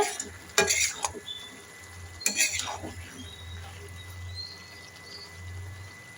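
A spoon scrapes and stirs through a vegetable dish in a pan, with two short bursts of clattering strokes over a low steady hum and faint sizzling, no voices.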